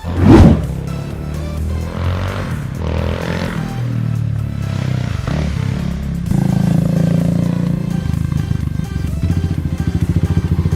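A modified Kawasaki KLX351 dirt bike engine runs nearby, idling and then revving up louder with a steady rough rumble while a rider practices the clutch.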